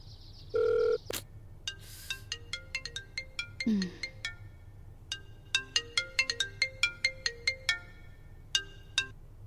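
An electronic phone ringtone plays a bright, repeating melody of quick plinking notes, clear and fairly close, with a short beep and a low hum beneath.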